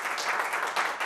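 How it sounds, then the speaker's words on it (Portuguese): Brief burst of dense applause from a studio audience during a Brazilian TV news program, steady and broadband with no voices over it, cheering the police officers. "Uma salva de palmas para os PMs"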